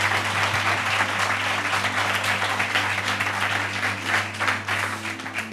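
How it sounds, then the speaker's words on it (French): A TV studio audience bursts into sustained applause, dense clapping that holds steady for several seconds under a low hum, with no speech over it. "Et on les applaudit bien fort."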